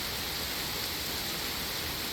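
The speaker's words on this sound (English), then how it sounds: "it's only rain, Mom." Rain shower falling during a fishing trip, a steady even hiss of drops filling the air, fairly soft and continuous with no voices.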